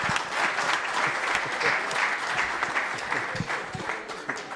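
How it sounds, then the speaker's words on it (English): A presentation at a project launch event draws a steady round of applause from the audience, dense clapping holding at an even level throughout with no talking over it. "Please give me a round of applause."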